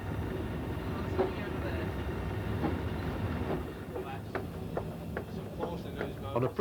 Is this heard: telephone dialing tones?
no